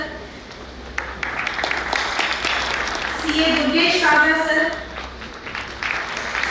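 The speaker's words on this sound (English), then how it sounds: "Big round of applause for them." Applause crackles at a conference opening ceremony, a moderate wash of clapping beneath someone speaking over a microphone who is introducing a guest by name.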